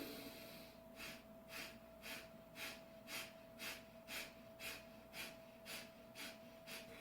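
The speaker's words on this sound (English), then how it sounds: "maybe about 30 seconds of Kapala breathing in this position" Kapalabhati yoga breathing: a rhythmic series of about a dozen sharp, forceful nasal exhalations at a steady pulse, quiet and close, over a faint constant hum.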